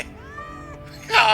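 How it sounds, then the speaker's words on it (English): A cat in the video game Final Fantasy VII Remake gives a short meow, followed by a louder drawn-out mew at the end, over a low game background. "Oh, kitty."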